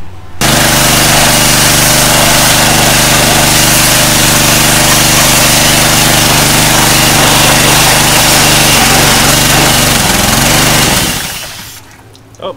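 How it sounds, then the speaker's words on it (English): A gas-powered pressure washer engine runs loud and close at a steady, buzzing roar, then stops abruptly near the end with a brief clatter, with no talk over it. "Let's grab our pressure washer, blast that in there clean, and see if we can get a coat of something on it."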